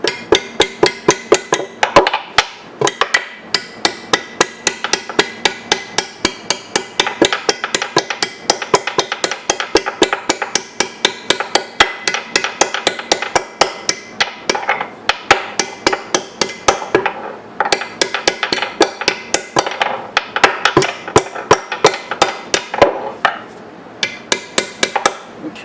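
Steady metal hammering on a bench vise while making soft jaws, sharp ringing strikes repeating in quick, fairly even rhythm for the whole stretch, loud and close with no talk.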